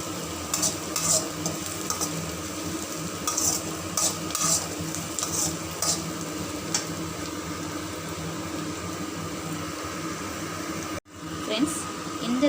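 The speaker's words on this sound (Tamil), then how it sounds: "இப்போ தக்காளி, பூண்டு, வெங்காயம் எல்லாம் நல்லா வதங்கட்டும்." Tomato, garlic and onion sautéing together in a pan for a curry-leaf garlic kulambu: a steady soft sizzle with scraping stirs and light clinks, over a constant background hum.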